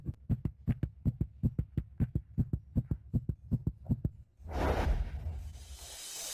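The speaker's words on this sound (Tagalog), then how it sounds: "Ang bilis ng tibok ng puso ko." A dramatic heartbeat sound effect thumps in a fast, steady run of deep, evenly spaced beats, then gives way to a rising whooshing swell that lingers to the end.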